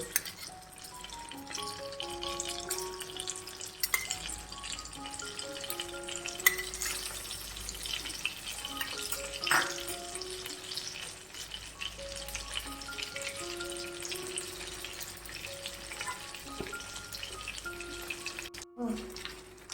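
Stuffed green chillies fry in oil in a pan on a low flame, with a steady soft sizzle and occasional spatter, over faint background music and no talking.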